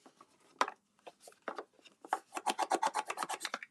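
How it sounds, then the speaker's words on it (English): A bone folder rubs down the crease of a small paper bag in quiet, close scraping strokes, a few scattered rubs and then a quicker run of rhythmic passes, with no talk. "I'm going to take my bone folder and I'm going to just go in here and rub that down."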